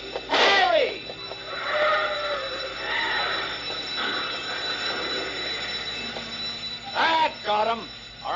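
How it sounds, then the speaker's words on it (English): An alarm rings continuously as a steady high tone, running under loud, agitated voices of several people talking and shouting nearby. "I set off the alarm as fast as I could, officer."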